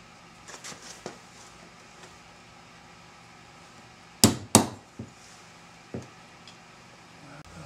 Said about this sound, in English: using a nylon punch. Okay, it's going in.